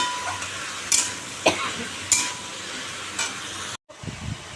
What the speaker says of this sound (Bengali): এই ঝিঙে আর এই আলু ভাজি লাউটা দিয়ে দিলাম ঝিঙে লাউ আলু কাঁচা লঙ্কা দিয়েছি